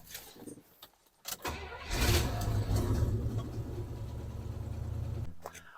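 An old Chevy K20 pickup engine cranks briefly, catches and settles into a loud, steady rough idle after a few faint knocks and clicks, running alone without talk until the sound cuts off near the end.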